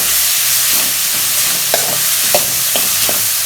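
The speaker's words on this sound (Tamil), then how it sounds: "சின்ன வெங்காயத்தை நல்லா வணக்கிக்கலாம்" Shallots sautéing in a pan for duck gravy, a loud, close, even sizzle with several sharp spatula scrapes and taps, no voices.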